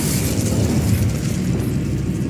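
Incendio fire spell cast in Hogwarts Legacy, a loud sustained whooshing roar of flame with a booming low rumble, steady and close throughout with no voices.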